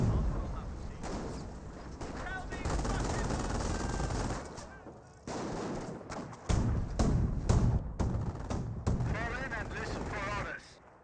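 Rapid machine-gun bursts and heavier thumps of artillery rattle through a Company of Heroes match between Panzer Elite and British forces, with near-constant battle noise and a commentator talking over it.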